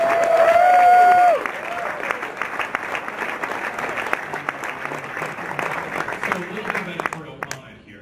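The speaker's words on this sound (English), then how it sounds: "without having a huge round of applause for Canada in legalizing cannabis" Audience applause and crowd noise fill a hall at a cannabis investors summit in Toronto, a loud sustained wave of clapping that stays dense throughout and tapers slightly at the end, with a voice briefly audible at the start.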